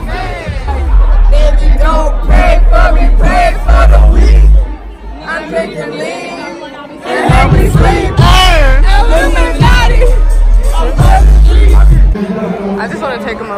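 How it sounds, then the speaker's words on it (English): Large crowd at a Wiz Khalifa concert heard from far back, loud chatter and cheering babble filling the space, with people nearby talking and shouting close over the roar. "I just want to take a moment to show y'all how big this crowd is."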